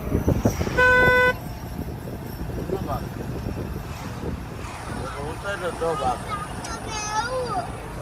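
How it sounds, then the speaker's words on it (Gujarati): A single loud car horn blast sounds early, close by, followed by traffic noise and people talking. "હોરન મારવા એને"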